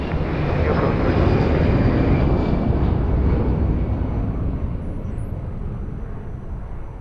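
An airliner landing on runway 02 at Lisbon Airport roars with a loud, broad engine rumble that slowly fades, heard from a distance in the open.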